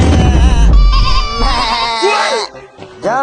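Several goats in a pen at night bleat loudly and close, with overlapping wavering cries, a brief pause, then another bleat at the end, over a low rumbling background.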